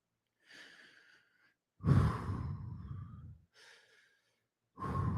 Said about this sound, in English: take 2 deep breaths in